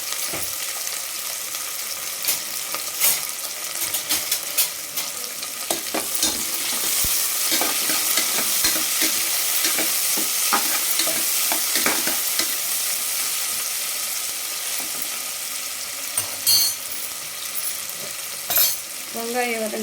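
Chopped onions and green chillies sauté in a hot pan for tomato rice, a continuous oily sizzle with frequent scraping and stirring strokes of a spoon, loud and close, without any talking.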